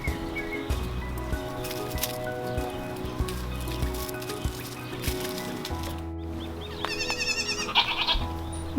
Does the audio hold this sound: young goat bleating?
yes